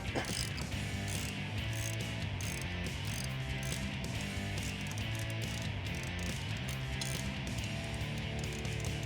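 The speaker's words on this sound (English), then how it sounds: "we'll use a 19mm socket for the bolt head" A ratchet with a 19mm socket works loose a bolt on a shock absorber of a 1987–1995 Jeep Wrangler YJ during a suspension install, a dense, continuous run of rapid metallic pawl clicks held close and loud throughout.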